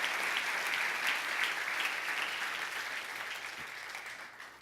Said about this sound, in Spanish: Dele fuerte el aplauso al Señor